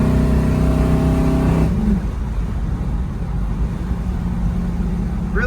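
Chevrolet Camaro RS SS 396 V8 with 375 hp revving while driving, a loud rising engine note that cuts off sharply into a steady rumble of road and engine noise.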